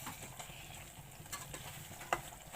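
Mutton liver masala with chopped green chillies is stirred in a pan, a spoon scraping and tapping faintly over a low sizzle, with one sharper clink near the end.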